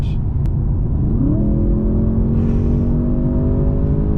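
Audi S8 with a 4-litre twin-turbocharged V8 accelerating hard, a loud, close engine roar rising in pitch as it pulls through the revs, steady and unbroken for several seconds.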